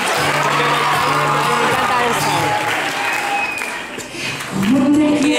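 A concert crowd at a show in Pamplona claps along in a loud, dense wash while the singer and audience voices carry over it.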